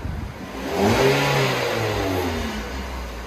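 Stock factory exhaust on a 2014 Ford Fusion SE 2.5-liter four-cylinder gives one close rev that climbs, holds briefly and then drops back toward idle.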